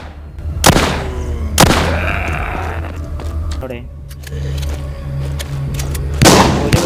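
Gunfire in The Walking Zombie 2 mobile game: three sharp, loud shots spaced a second or more apart, cracking over game ambience with a voice talking in between.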